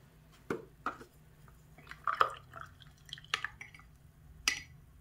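Oil-paint brushes swished and bubbled in a jar of hot water to rinse them, giving scattered soft drips, sloshes and gurgles, close and fairly quiet, with no talking.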